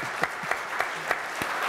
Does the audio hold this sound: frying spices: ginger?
no